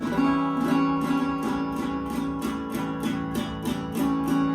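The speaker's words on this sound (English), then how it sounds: "Here's the sound of an A dominant 7." An A dominant seventh chord is strummed repeatedly on guitar in an even rhythm, each strum ringing out clearly and up close.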